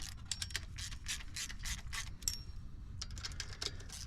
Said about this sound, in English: I'm using a 1/4 inch ratchet too